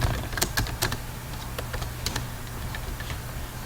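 Code being typed on a computer keyboard, a run of quick, irregular close key clicks in short bursts with brief pauses, alone against a quiet room.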